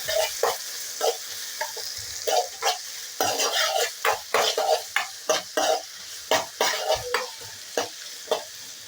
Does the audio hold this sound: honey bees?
no